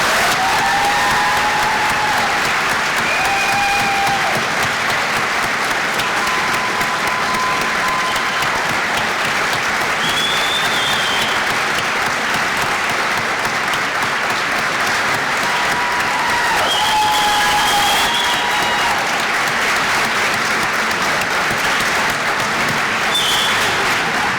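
A large graduation audience applauds two young men entering the military, a dense, steady roar of clapping that holds for the whole stretch, with a few whistles rising above it.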